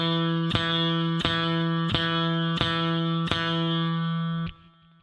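Steady quarter notes on E picked on an electric guitar, about six even plucks at a moderate tempo over two measures, each note ringing into the next before a final cutoff, with no voices.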